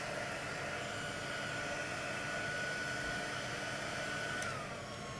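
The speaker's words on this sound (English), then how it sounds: "Okay, so this heat tool has 2 settings." A heat embossing tool set to its lower setting blows hot air over vellum, a steady close whooshing hiss that holds even and unbroken throughout.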